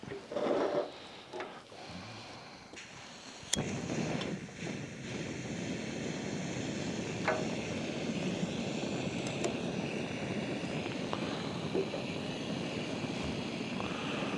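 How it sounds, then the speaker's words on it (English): A Jetboil camping stove lights with a brief click and then burns with a steady roaring hiss as it heats water, close by and constant. "Let the jet boil do its thing."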